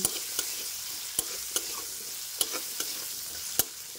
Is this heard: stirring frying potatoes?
yes